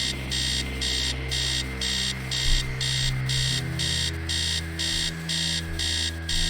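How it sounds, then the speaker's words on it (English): An alarm clock blares upstairs in a retro horror video game, a loud, steady electronic ringing pulsing in rapid regular bursts over a low droning hum for the whole stretch, with no one talking. "Upstairs, the sound of an alarm clock blaring."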